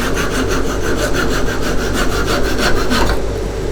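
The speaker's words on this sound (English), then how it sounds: "I'm just going to come in with a handsaw" A handsaw cuts off a wood-turned box with steady back-and-forth strokes, loud and close, each pass a rasping rush in an even rhythm, with no talking.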